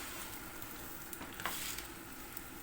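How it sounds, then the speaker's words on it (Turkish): Egg noodle pasta toasting dry in a pan, stirred so every side browns evenly: a soft, steady sizzle and rustle with a few light scrapes, fairly faint and close, with no voices. "Bunu iyice kavuracağım arkadaşlar"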